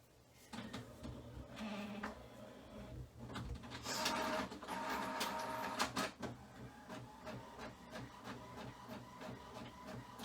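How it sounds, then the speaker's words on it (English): A printer whirs and clicks rhythmically as it feeds and prints, a steady mechanical buzz with repeated ticking, fairly close and alone. "Can you hear the printer?"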